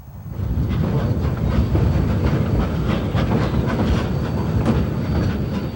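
A train on the mountain line out of Chama, near the Los Pinos water tank, rumbles past loud and close in a continuous heavy roar with faint wheel clatter, no voices.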